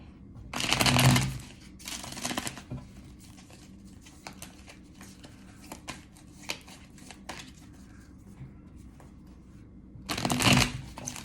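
A deck of tarot cards is shuffled close by in crisp riffling bursts, two quick ones at the start and another near the end, with soft handling and tapping of the cards between them.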